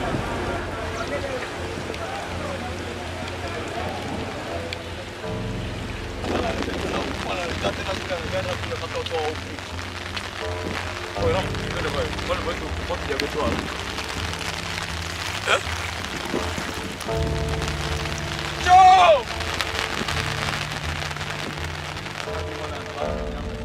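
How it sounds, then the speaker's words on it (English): Heavy rain falls steadily in Tanzania, a constant broadband wash of drops on surfaces with passing vehicle rumble and faint voices mixed in throughout. "As you see, rainfall is raining and some people have no area to live."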